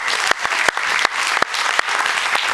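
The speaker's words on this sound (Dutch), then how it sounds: "we willen even een heel groot applaus voor Pelota" Loud, dense applause from a theatre café audience for the performers Pelota. Steady clapping runs the whole stretch, with a few sharp individual claps standing out near the front.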